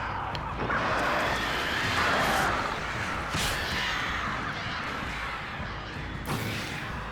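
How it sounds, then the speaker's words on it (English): Crows caw through dense in-game wilderness ambience in Alan Wake, near a lake, with a few scattered calls over a steady wash of background sound and an occasional thud. "So many birds!"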